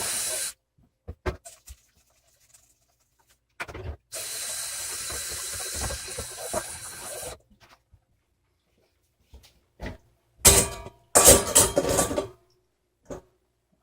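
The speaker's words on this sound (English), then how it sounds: "I'm just going to do a quick rinse here." A kitchen tap runs steadily for a few seconds for a quick rinse during burger prep, a broad even rush of water with clanks and handling noises before and after.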